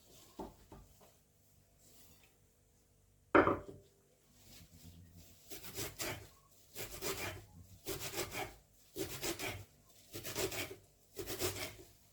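Young nettles are cut by a gloved hand on a wooden cutting board, a series of regular rasping knife strokes that repeat in an even rhythm after a sharp knock, quiet and close, with no talking.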